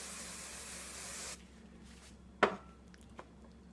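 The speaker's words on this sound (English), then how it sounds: "I'm gonna spray a little bit on this side." Hairspray hisses onto hair for a cheer hairstyle in one steady, fairly close burst of about a second and a half, then cuts off, leaving quiet room tone with a couple of small clicks.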